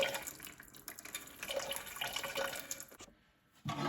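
Fuel drains from a disconnected fuel line on a Massey 35 tractor with a Continental Z134 engine, a close, steady liquid trickle and splatter that stops abruptly near the end.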